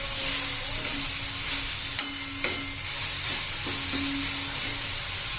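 Grated coconut with a quarter bowl of jaggery in a hot pan for coconut rice, giving a continuous bright sizzle with a few sharp scraping stirs, close up and without voices.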